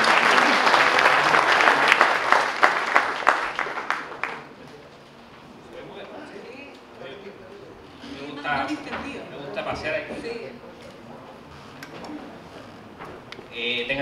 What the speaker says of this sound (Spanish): Pido por favor un aplauso.